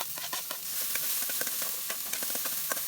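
Garlic sizzling and crackling in hot coconut oil in a pan, a steady close frying hiss with frequent sharp pops and spatters throughout, no talking.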